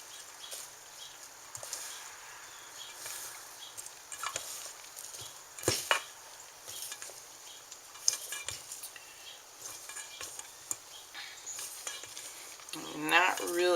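Whipped egg whites folded into corn fritter batter with a spoon in a bowl, soft wet scraping and squelching strokes coming in irregular bursts, close and fairly quiet, with a clatter at the end.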